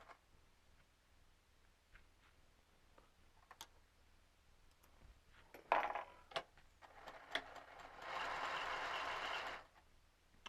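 A sewing machine with a freshly loaded bobbin stitches in a studio, starting with a short burst and then running a steady, moderately loud stretch after some scattered clicks and taps.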